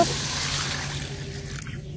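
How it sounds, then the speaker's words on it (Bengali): Water poured into a pan of curry with pumpkin and pond fish to make the broth, a short steady rushing splash close by that tapers off, with no talking. "ঝোলের পানি দিয়ে দিব,"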